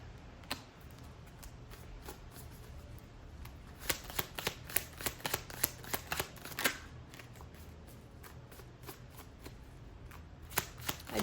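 A deck of oracle cards is shuffled close up in quiet surroundings, with repeated crisp riffling and snapping bursts, some sharper card slaps standing out near the middle and end.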